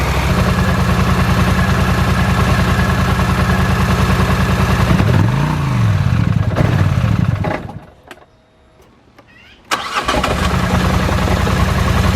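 A 2009 Polaris 850 XP with a throttle fault idles steadily and loud, with a brief rev swell in the middle, a sudden drop to near silence, then the engine picks back up to a steady idle.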